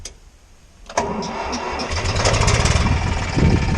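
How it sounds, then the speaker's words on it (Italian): An OM 650 Special tractor engine cranks and catches after a brief quiet moment, then settles into a loud, steady diesel rumble close by. "Adesso accendo il trattore"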